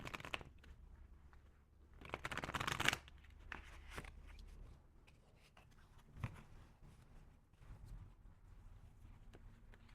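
Tarot cards are shuffled by hand, with a loud riffle burst followed by softer intermittent card shuffling and tapping, close and quiet.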